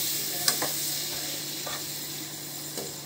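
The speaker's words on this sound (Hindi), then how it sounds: "उसको अच्छे से मिला देते हैं हम लोग" Tomatoes with salt, turmeric and coriander powder being stirred in a sizzling pan, a continuous frying hiss broken by several soft scraping strokes of the spoon.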